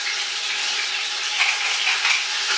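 Ground meat browns in a hot pan for a sauce, giving a steady close sizzle and crackle of frying with faint stirring, no voices.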